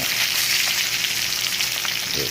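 Tilapia fish frying in hot oil, giving a steady, dense crackling sizzle that stays loud and even throughout, with no voices.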